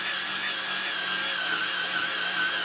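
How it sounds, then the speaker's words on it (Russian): A Hyundai cordless drill runs continuously with a high, buzzing whine as it bores through chipboard, steady and close, with no speech. "Вот я насквозь его просверлил."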